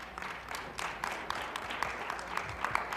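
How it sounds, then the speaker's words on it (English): A scattered audience at a mental health summit claps. The applause is light and uneven, with separate hand claps heard within a soft wash of clapping. "Yes, clap for that."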